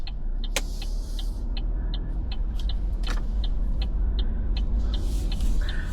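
Car driving on a road with a steady low engine and tyre rumble, broken by repeated light clicks and ticks inside the cabin.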